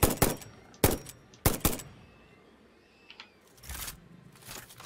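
Gunshots in the video game Satisfactory, several sharp, loud cracks fired in spaced bursts, two quick shots then more, before a quieter gap and a final softer pair.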